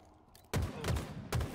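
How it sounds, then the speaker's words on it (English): Halo Infinite gunfire erupts in loud bursts after a quiet moment, with rapid shots clustered in three heavy volleys. "Make those bullets sing, Spark."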